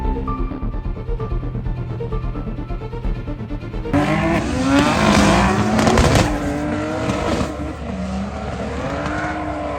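A loud racing car engine climbs in pitch through several gear changes, roaring close by after a quieter, steadier engine hum.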